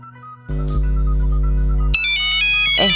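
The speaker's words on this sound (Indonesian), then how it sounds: "Si Neng nelponin" A mobile phone rings with an incoming call during an amateur Sundanese school drama: a loud, sustained electronic ringtone that starts abruptly, then shifts into a brighter, higher melodic phrase partway through, with no talking over it.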